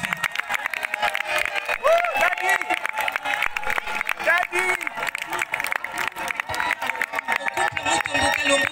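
Guests at a civil and religious wedding celebration applaud the couple, dense continuous clapping mixed with cheering and crowd voices, loud and close throughout.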